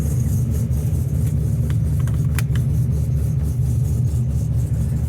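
Steady low engine rumble from a 2013 Scion FR-S fitted with a swapped LS3 V8, driving at an even pace and fairly close, with no talk over it.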